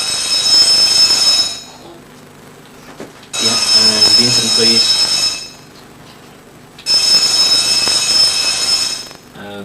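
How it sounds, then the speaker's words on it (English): A loud scramble bell in a squadron operations room rings in three long bursts with pauses between them, and people talk during the gaps. "as Phil pressed the scramble button and a loud bell rang."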